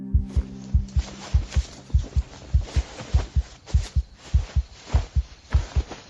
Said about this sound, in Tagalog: Sobrang lakas ng kabog ng dibdib niya ng mga sandaling yon.